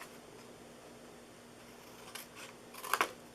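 Scissors cutting a paper treat box, heard as a few faint, close snips near the end after a quiet stretch of room noise.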